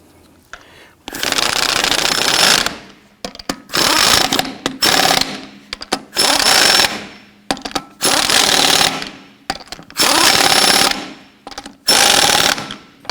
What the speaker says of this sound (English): let's go ahead and install the lug nuts.